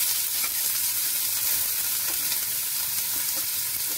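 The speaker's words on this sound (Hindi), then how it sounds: "ये देखिए तेल हमारा गर्म हो चुका है। इसमें हम डालेंगे लहसुन," Garlic, onion and ginger hit hot oil in a pan, giving a steady, close sizzle and crackle with occasional small pops for the whole stretch, with no talk over it.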